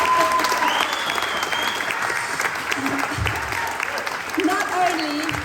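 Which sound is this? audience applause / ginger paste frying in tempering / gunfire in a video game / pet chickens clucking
audience applause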